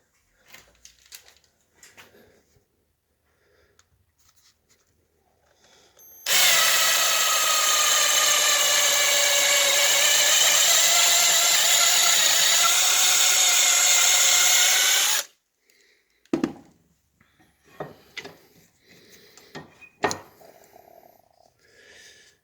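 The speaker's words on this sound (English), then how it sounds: "I'm going to drill it through so the tubing will fit" A power drill bores a hole through a kayak hull with an oversized bit for steering cable tubing, whining loud and steady for about nine seconds after quiet handling noises, followed by scattered clicks and knocks.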